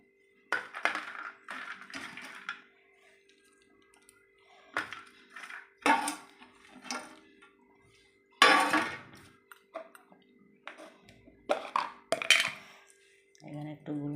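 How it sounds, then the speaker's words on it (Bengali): Fried rice with cashews, raisins, capsicum and carrot is stirred in a pan. Scattered metallic clinks and scrapes of a utensil against the pan come in irregular bursts, some sharper and louder than others. "এবার আমি ফ্রাইড রাইসটা ভালো করে সব ফ্রাইড রাইসে মিক্স করে নেব।"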